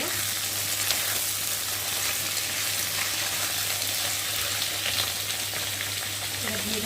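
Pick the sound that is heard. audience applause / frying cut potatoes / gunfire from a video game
frying cut potatoes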